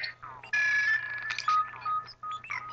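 A phone rings with an electronic ringtone, a series of warbling tonal bursts with short gaps, fairly faint in a quiet room, with speech partly mixed in.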